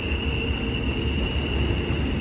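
A Norfolk Southern freight train rolls past a crossing beside a river, a steady heavy rumble with a thin, sustained wheel squeal riding above it, fairly close and unbroken.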